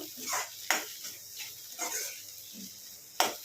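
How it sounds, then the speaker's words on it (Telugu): Masala being stirred and mixed in a pan for a brain fry dish, with several scraping, clinking strokes of a spoon against the metal at an irregular pace, fairly close and moderately loud, no talking. "ఇది మొత్తం మంచిగా కలుపుకుందాము"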